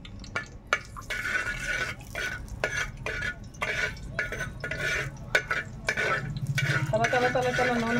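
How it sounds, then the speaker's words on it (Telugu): Oil crackling and sizzling in a pan on a wood-fired stove as curry leaves fry, with spoon stirring and scraping against the metal in irregular bursts. "తల తల తల నూనె మరుగుతుంది."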